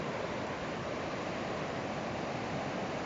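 Swollen river in the San Marcos Sierras hills of Córdoba, running fast after rain: a steady, broadband rushing roar of water with no breaks, loud and continuous throughout.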